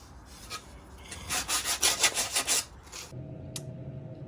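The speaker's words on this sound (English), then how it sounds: "you have to sandpaper the edges so you can do this, because you don't want it to leave splinters in the head wraps" Sandpaper rubs along the edges of a wooden headwrap board in a quick series of rasping strokes, close and fairly loud, then stops, leaving a faint hum and a short tap.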